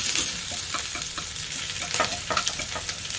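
Aromatics stir-fried in a hot wok before squab goes in, for a sand ginger squab casserole: a steady loud sizzle with repeated scraping stirs of the spatula, close and continuous, no voices.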